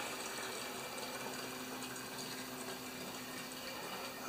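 Fresh gasoline poured into the fuel tank of an old abandoned Yardworks lawn mower, a steady trickling, gurgling liquid stream that runs evenly from start to finish at close range with no talking.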